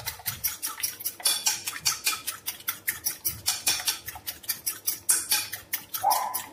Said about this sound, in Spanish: Y ahora batimos.